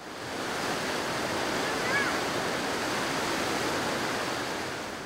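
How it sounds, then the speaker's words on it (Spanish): The river rapids of raudal Machuca rush in a steady, dense roar of churning water, constant and fairly loud throughout with no talk over it. "Río arriba, volvemos a franquear el temible raudal Machuca."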